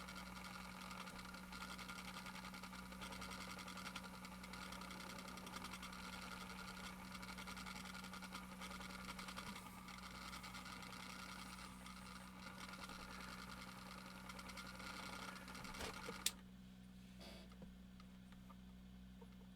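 A spinning wheel with a worn flyer bearing, running in a continuous fast rattling whir with a steady hum, then stopping abruptly after a sharp knock, leaving near quiet.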